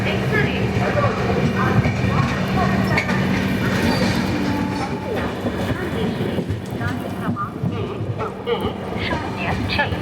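Vidarbha Superfast Express standing at platform 1 of Gondia station, a steady loud rumble of train and station noise running through the whole stretch, with voices and faint clatter mixed in.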